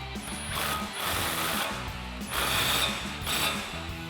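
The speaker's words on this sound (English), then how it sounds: "Now we're going to tighten our axle nut back down with our 35mm socket." A ratchet with a 35mm socket tightens the axle nut on a Toyota Tacoma during a CV axle install, giving steady rapid clicking in two close bursts with a brief pause between.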